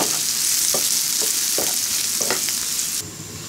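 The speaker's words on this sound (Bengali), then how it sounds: "এবার ব্রাউন কালার করে ভেজে নিব।" Chopped garlic and whole cumin seeds fry in hot oil for a dal tempering, a loud, close, steady sizzle broken by a few spatula stirs, easing slightly toward the end.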